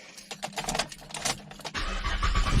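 A 2013 Chevrolet Camaro starts up after a jingle of keys, with a few clicks and rattles before the engine cranks and catches into a rising idle near the end.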